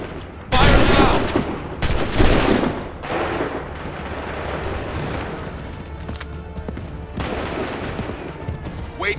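A musket volley fired by a line of soldiers in Assassin's Creed 3 cracks out in loud bursts, a sharp crash followed by scattered reports and rumbling echoes that fade into background battle noise.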